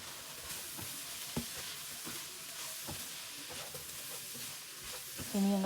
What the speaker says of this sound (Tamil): இதை ஃபுல்லாக நல்லா நாங்கள் கிண்டி நல்லா வதங்க விட்டுட்டு மசாலாலாம் சேர்கிற மாதிரி எல்லாம் வதங்க விட்டுட்டு